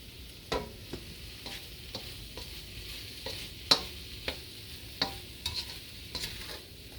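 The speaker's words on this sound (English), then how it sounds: "Just moving them around because, again, the middle of the wok gets super, super hot." Sweet potato pieces sizzle steadily in a very hot wok while a utensil stirs them, giving sharp intermittent scraping clicks over the continuous frying hiss, close and moderately loud with no talking.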